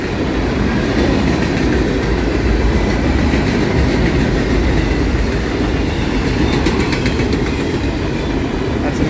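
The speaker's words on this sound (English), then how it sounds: "And I see the back end of the train." Passing freight train on the Soo Line in Ohio, its tail end rolling by in a loud, continuous rumble with steady wheel clatter and rail noise, close and unbroken from start to finish.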